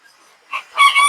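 Game bantam chickens, small table bantams, calling in a pen: a faint short note, then a louder rising crowing burst, close and unaccompanied by talk.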